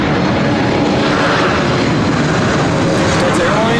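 An Air Canada airliner taking off at LAX, bound for Vancouver: a loud, steady broadband engine roar filling the whole stretch, close and unbroken, with no speech over it.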